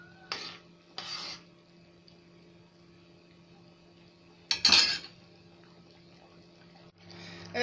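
Orange marmalade being stirred in a pot, a spoon scraping and clinking against the metal in a few short bursts separated by quiet stretches, close and moderately loud, no talk.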